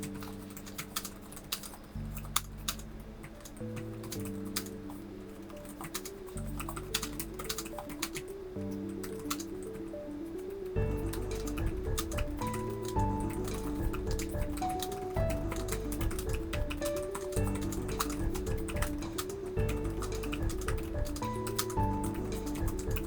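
Continuous fast typing on a Framework 12 laptop keyboard during a typing speed test, steady clacking keystrokes throughout, accompanied by background music.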